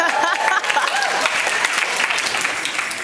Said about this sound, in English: This is where you cheer.